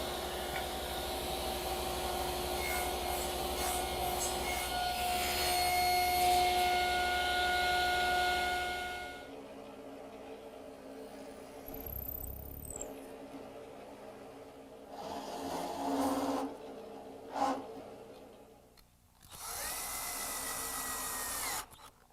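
Power tool cutting 1x1 wood stock to length in a workshop, a loud sustained whine for several seconds that stops, followed by quieter handling knocks and a few shorter bursts of tool noise.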